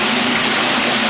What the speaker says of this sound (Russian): Река утекает в дренаж.